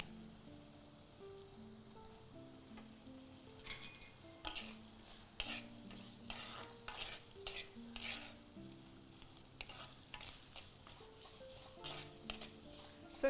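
Onions sautéing in a pan with garlic and curry leaves, with a faint, constant sizzle and soft irregular scraping from stirring, while quiet tonal music plays underneath.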